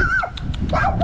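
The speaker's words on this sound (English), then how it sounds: "Barking dogs." Dogs bark outdoors during a walk, giving a couple of short yips and a whiny bark in a brief burst, fairly close and loud over a background rumble.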